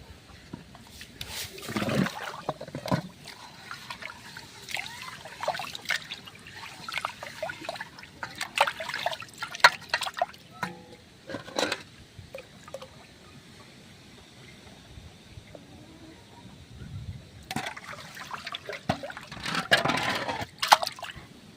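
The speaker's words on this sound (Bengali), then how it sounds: "চালটা পুকুরের জলে ধুয়ে নিয়েছি" Rice being washed by hand in pond water, with intermittent splashes and trickling bursts, some louder swishes near the start and end, and quieter dripping between, close by and without talk.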